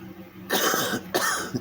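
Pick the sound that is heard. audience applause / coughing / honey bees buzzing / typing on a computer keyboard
coughing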